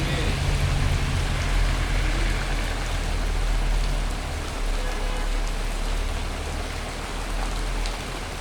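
Rain falls on a camp in Nuseirat, central Gaza Strip: a dense, steady patter of raindrops hitting surfaces, loud and continuous throughout with a faint watery wash beneath and no clear speech.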